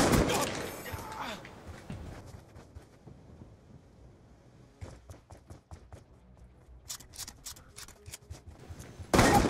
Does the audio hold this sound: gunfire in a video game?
yes